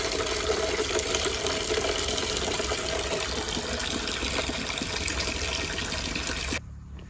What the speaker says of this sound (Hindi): अभी फटाफट से जो है कि गाय को पानी पिलाते हैं